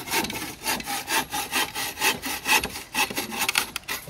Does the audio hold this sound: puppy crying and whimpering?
no